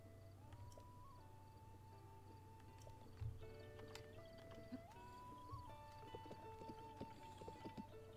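Horse in Zelda: Breath of the Wild, faint and quiet, with soft hoof clops and a brief neigh set against sustained tonal game music.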